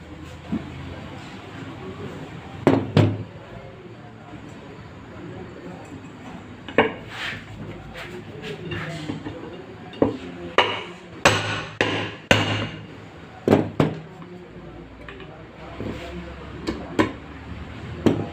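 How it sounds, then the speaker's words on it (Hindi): A ceiling fan with aluminium winding is tapped shut with a pipe, producing a series of sharp metallic knocks at irregular intervals, some in quick clusters, over a low background hum. "एक पाइप की मदद से हम दोबारा स्लाइडली ठोक के बंद करेंगे"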